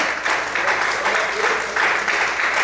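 A church congregation applauds in a dense, sustained wave of clapping that swells and eases slightly, with voices mixed in underneath.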